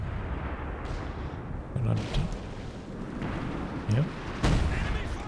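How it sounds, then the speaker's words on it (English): Concentration barrage artillery shelling in Company of Heroes 2, heard as scattered booms and explosions over a busy battle din while a voice briefly speaks. "calling in the concentration barrage"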